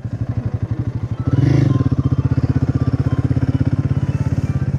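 A Royal Enfield Himalayan 450 motorcycle on a ride around Kurseong rumbles close and loud with a fast, steady thumping beat, rising briefly in a stronger burst before settling back to an even cruising pulse.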